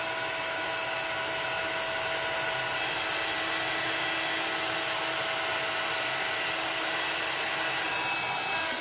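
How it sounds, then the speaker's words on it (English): A heat gun blows steadily over a stamped image on card, a continuous broadband whoosh with a faint motor whine, loud, close and unbroken throughout with no talking. "I'm going to heat it up with my heat gun. So again, you're just going to hold that heat gun still and start to move it over the image."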